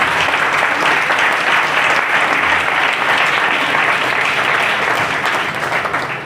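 A congregation at a morning service claps loudly and steadily, a dense wall of sound from many hands that holds at full strength for several seconds before easing slightly at the end.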